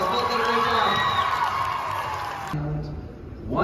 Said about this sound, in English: Give both of our volunteers a big round of applause